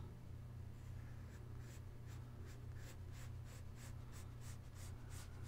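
A pencil scratches across paper as an electric guitar is sketched, with a short run of quick, evenly spaced strokes in the second half, close and faint against a low hum.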